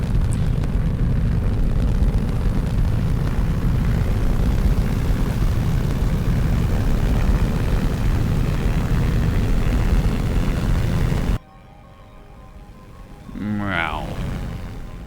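Jet plane roaring loudly and steadily in the Simple Planes flight game, a dense, broad engine rush that cuts off abruptly near the end, followed by quieter background and a voice speaking.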